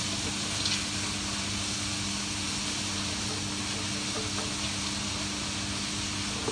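A steady, faint sizzling hiss of onions frying without oil in a hot pot continues throughout, with a low background hum.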